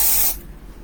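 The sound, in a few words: air freshener spray being sprayed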